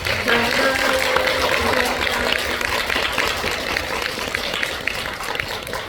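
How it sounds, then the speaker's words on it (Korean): A film screening audience in a theater applauds after a post-screening talk for the film 'The World's Owner', a steady, dense wash of clapping that holds for several seconds, with voices mixed in. "큰 박수 한번 부탁드리겠습니다"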